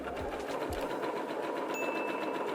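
A sewing machine runs a straight running stitch at a long stitch length on swimsuit fabric, with a close, continuous, even mechanical whir and rapid needle ticking, alone and without talk.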